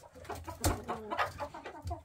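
An older hen clucks up close in a series of short, uneven clucks and soft murmurs spread across a couple of seconds, with no talking.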